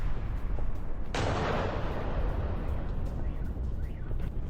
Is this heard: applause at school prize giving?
no